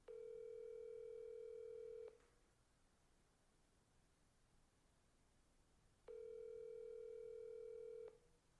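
An outgoing call back on a telephone line gives two long, steady dial-tone beeps about four seconds apart, clear and alone with quiet line hiss between them.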